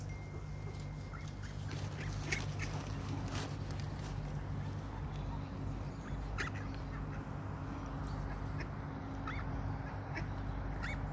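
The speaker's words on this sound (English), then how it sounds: "Lots and lots of ducks." Scattered quacks from several ducks sound out over a steady low engine drone, moderately distant and fairly faint.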